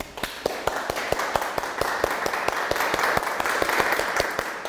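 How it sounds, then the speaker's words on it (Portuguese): Audience at a communication talk gives a round of applause: a sparse, steady run of distinct claps at a moderate even pace, mid-distance, over faint room murmur with no speech. "vocês são merecedores de uma salva de palmas"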